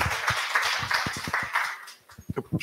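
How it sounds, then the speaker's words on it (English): Applause from a conference audience at an HIV treatment session, a steady wash of clapping that thins out toward the end, with a few scattered louder claps. "Big applause."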